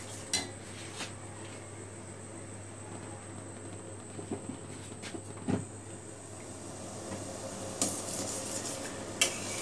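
A spoon clinks and scrapes now and then against a pot while sugar syrup is stirred for balushahi sweets, sparse light metallic taps over a steady low hum and hiss of background noise.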